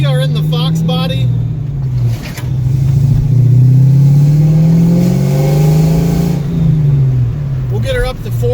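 A 1992 Ford Mustang GT Foxbody accelerates hard through its gears, the engine note climbing loudly and then dropping at each upshift, with two clear shifts heard close up from inside the car.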